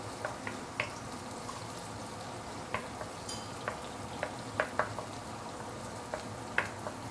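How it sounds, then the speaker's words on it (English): Garlic and shallots sautéing in a pan for a claypot fish head curry give a low continuous sizzle, punctuated by occasional sharp pops and light scraping taps, quiet and without talk. "Saute this for a minute or two before we continue."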